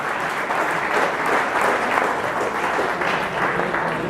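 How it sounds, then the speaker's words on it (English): Dense, steady applause from an audience at a Democratic political gathering fills the whole stretch, loud and close, with no pauses and no clear voices over it. "Give him a round of applause,"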